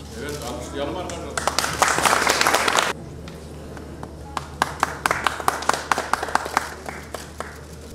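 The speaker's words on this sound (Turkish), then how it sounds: "Evet, alkışlayalım arkadaşlar." Audience at a photography contest award ceremony and exhibition opening in Diyarbakır applauding, a dense burst of clapping that stops abruptly, followed by scattered, sparser claps that gradually thin out.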